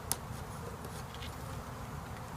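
Honey bees buzz softly and continuously during a nucleus hive transfer, with a low drone close by and a sharp knock near the start.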